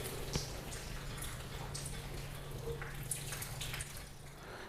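A car getting a contact wash with a wash mitt and CarPro Reset soapy water: continuous splashing, wet rubbing and dripping close by, steady throughout with small trickles and drips scattered over it.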